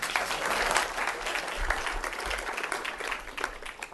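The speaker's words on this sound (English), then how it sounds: "Give Will a round of applause." An audience at a commemoration event gives a warm round of applause, dense clapping sustained for several seconds before tapering off, heard fairly close and without speech over it.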